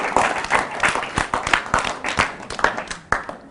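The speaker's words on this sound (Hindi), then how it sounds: "सुमित के लिए एक जोरदार ताली बजाइए आप लोग।" An audience claps for a child bravery award winner, a dense burst of hand claps with distinct sharp individual slaps and uneven swells that stays moderately loud throughout.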